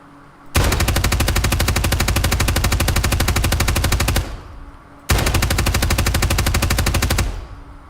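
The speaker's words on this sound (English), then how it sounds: "I didn't know they carried machine guns in this" Two long, loud bursts of automatic machine gun fire in the tactical shooter Ground Branch, rapid evenly spaced shots, each burst lasting several seconds with a short gap between them.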